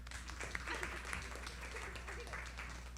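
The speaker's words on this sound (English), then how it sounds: "Feel free to clap after it." Scattered, faint applause from a small group at a council meeting follows a unanimous vote, a brief patter of hands under a low background hum.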